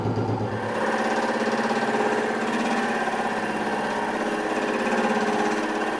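Drill turning a Forstner bit while boring into wood, a loud, steady motor whine with a continuous grinding drone held close for several seconds, no voices over it.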